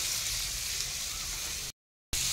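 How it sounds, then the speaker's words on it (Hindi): Tomatoes frying in oil, a steady broadband sizzle close up and fairly loud, briefly cut to silence before resuming. "टमाटर तेल ही भाजे"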